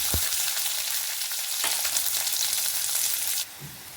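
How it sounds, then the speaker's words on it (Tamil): Mustard seeds and small shallots fry in hot oil in a kadai, giving a steady, loud crackling sizzle that breaks briefly as ingredients drop in, then quiets near the end. No voices. "இனி கடுகு போடலாம். சின்ன வெங்காயம் போட்டுக்கலாங்க."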